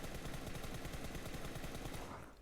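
Rapid automatic gunfire sprays from a weapon in the mobile shooter PUBG Mobile, a dense, steady stream of shots lasting about two seconds before cutting off, loud and alone.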